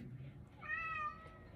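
A house cat gives a single drawn-out meow, faint and indoors over a low background murmur.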